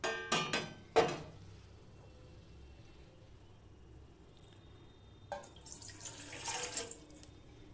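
Half a cup of water for tulsi tea is poured into a pan set on a gas stove, heard as a close, splashing pour near the end, after a few sharp clanks of utensils at the start.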